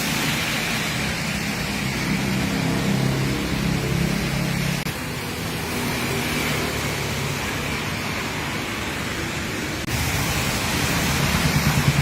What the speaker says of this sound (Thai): เอาภาพบรรยากาศฝนตกมาให้เพื่อน ๆชมค่ะ